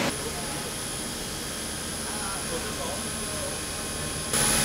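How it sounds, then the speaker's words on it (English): Landfill gas blowers and engines at a gas collection site give off a continuous, loud mechanical roar with a steady high whine, while a person talks over the din. "Once the blowers draw the landfill gas out of the landfill"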